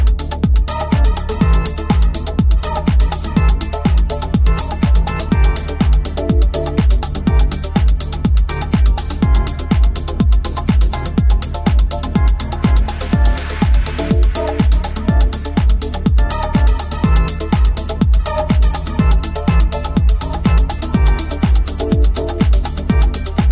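A deep progressive house track, built in Ableton Live, with a steady four-on-the-floor kick pounding under layered synth textures and hats, loud and continuous with no voices.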